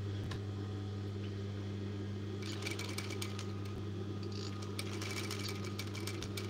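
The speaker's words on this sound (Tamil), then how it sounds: "மறுபடியும் பொறுமையாக தைக்கிறேன், உங்களுக்கு காமிக்கிறேன் பாருங்கள்." A sewing machine stitches a baby girl's shirt, its steady low motor hum running throughout with a quicker clattering burst of needle strokes in the second half, close and fairly quiet.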